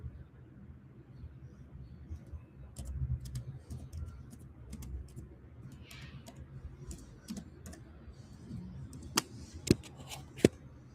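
Someone typing on a computer keyboard, with soft, irregular clicks and taps, faint and close, plus a few sharper clacks near the end. There is no clear talk.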